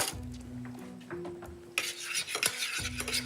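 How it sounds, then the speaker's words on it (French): Garlic gently sautéing in olive oil in a pan, with soft stirring and scraping of a utensil against the pan, short and close, with a brighter sizzling rush partway through. "Je fais légèrement revenir mon ail avec L'huile d'olive"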